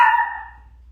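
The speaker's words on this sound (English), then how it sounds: "I apologize about the dog." A single short dog bark rings out once, close and fairly loud, then fades into quiet.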